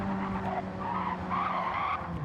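A race car in Gran Turismo 7 skids hard over curbs with oversteer, a continuous close tire squeal and scrubbing over a steady engine drone.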